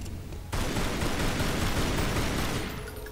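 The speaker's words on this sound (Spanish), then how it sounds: "disparo todo y no le pego ninguna" Sustained rapid gunfire in the Tomb Raider: Anniversary video game, a dense roaring burst of shots that kicks in abruptly after a brief lull and continues loudly to the end.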